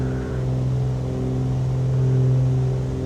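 Twin piston engines of a Cessna 414AW Chancellor in a flight simulator hum steadily in the cabin as power is eased back, a loud continuous drone with a slight swell in pitch and volume.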